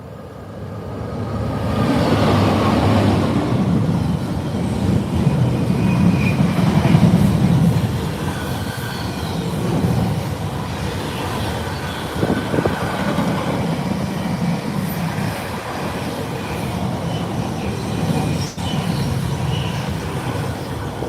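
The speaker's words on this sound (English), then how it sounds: "There we go, another double header Class 90s." A train hauled by two Class 90 electric locomotives passes by, a loud sustained rumble with clattering wheels and faint squeals building over twenty seconds, near and with no one speaking.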